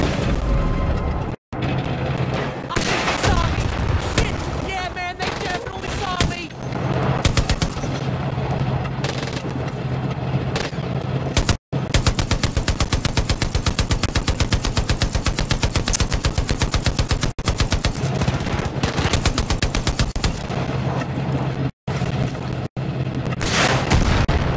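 Rapid automatic gunfire rattles in long sustained bursts in Far Cry New Dawn, broken by a few short gaps and mixed with mechanical clatter and booms. Little talk.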